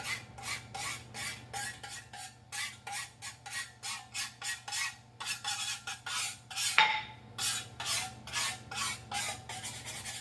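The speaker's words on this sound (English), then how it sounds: "I just scrape my rolling pin off." A Pampered Chef plastic scraper drawn repeatedly along a rolling pin to remove dough bits, steady rhythmic rasping strokes, close and fairly quiet, with a brief sharp click midway and no voices.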